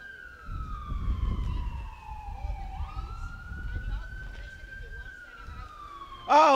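An ambulance siren wails and sweeps up and down in pitch, passing at moderate distance over low traffic rumble at an outdoor farmers market, ending in a sudden loud burst.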